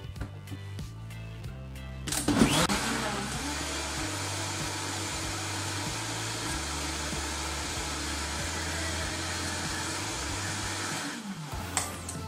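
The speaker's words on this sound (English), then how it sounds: "Literally takes a second when you have a great blender." A few short pulses give way to a loud blender motor whirring steadily for about ten seconds, its pitch shifting slightly as it grinds, then cutting off.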